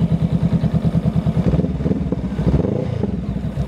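A 2021 Honda Rebel 500 with a Vance & Hines slip-on exhaust idles with a rapid, uneven, loping throb, loud and close, briefly swelling in a small rev before settling.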